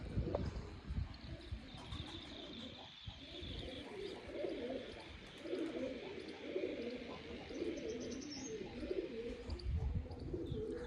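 Pigeons coo steadily and repeatedly close by, with occasional small chirps over a soft, constant murmur.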